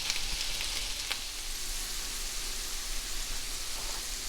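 Apple pieces cook in butter and brown sugar in a pan, giving a steady, soft, even sizzle throughout, with a few faint crackles and no voices.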